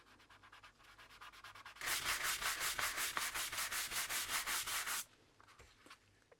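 A clear coat of wax is rubbed onto a leather cardholder with a wood-texture print, making a quiet scratchy rubbing that turns into quick, rhythmic, louder strokes for about three seconds before easing off again.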